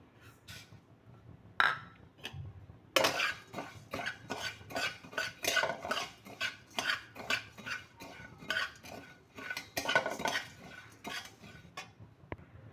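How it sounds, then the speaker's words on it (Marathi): Coriander and cumin seeds dry roasting together in a pan, with a spoon scraping and clattering against the metal in quick, uneven strokes. The sound is close and moderately loud, with no talking. "आता आपण धने आणि जिरे एकत्र भाजून घेऊयात"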